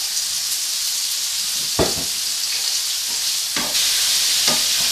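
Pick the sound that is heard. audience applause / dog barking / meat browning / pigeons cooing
meat browning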